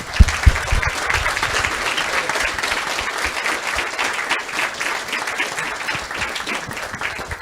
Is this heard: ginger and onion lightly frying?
no